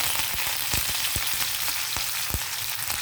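Curry leaves frying in hot oil with garlic, mustard seeds, cumin and dried red chilies, giving a dense continuous sizzle with quick crackles and pops close by, and no talk.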